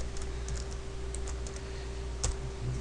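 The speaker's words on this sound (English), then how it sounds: "I'll just type it in." Keys tapped on a computer keyboard while entering setup details for FT-817 radio software: a light, irregular series of clicks, faint and close, over a steady background hum.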